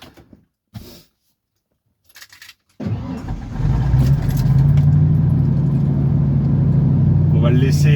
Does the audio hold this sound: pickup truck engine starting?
yes